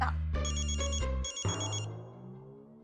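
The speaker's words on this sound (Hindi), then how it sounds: "फोन बज रहा है आपका" A mobile phone ringtone rings loudly in a home, a bright repeating electronic melody in two bursts with a short gap, then decaying into a fading tail with no talk over it.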